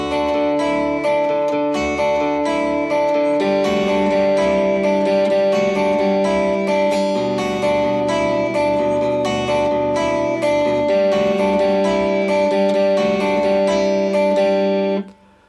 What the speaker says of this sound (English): There's an arpeggio part and a power chord part.